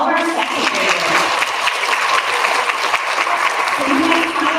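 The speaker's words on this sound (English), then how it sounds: "Big round of applause for all of our second graders." Audience applause for second graders at an elementary school recognition ceremony, a full, continuous round of clapping from many people with a few voices mixed in.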